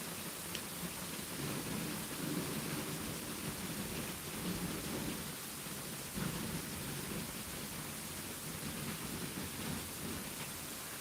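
Heavy rain pours steadily through a lightning-filled thunderstorm, with low rumbles of thunder rolling beneath the constant hiss of the downpour.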